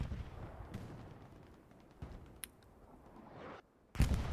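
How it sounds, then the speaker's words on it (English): Distant artillery in the World War II shooter Hell Let Loose thuds at intervals over a quiet battlefield hum, ending in one sharper, louder blast. "Artillery takes out Kale for his efforts."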